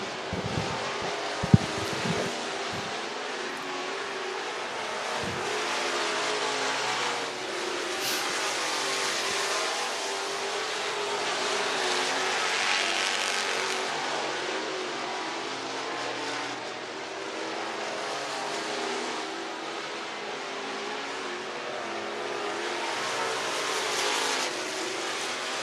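Street stock race cars on a dirt oval at I-75 Raceway in Niota, Tennessee, during hot lap qualifying: a continuous engine roar that rises and falls as cars pass, loud and sustained with no talk.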